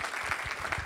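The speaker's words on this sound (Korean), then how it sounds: "감사의 박수를 한번 치겠습니다" Brief burst of audience applause in a church lecture hall after a guest talk, steady clapping at moderate level with no voices.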